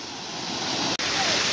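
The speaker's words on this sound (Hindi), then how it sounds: "रोड भी दिख रहा नहीं इतना पानी बह रहा है।" Deep water rushes across a road in the Konkan region near Kankavli, giving a loud, steady, broadband roar that continues throughout with one brief dropout.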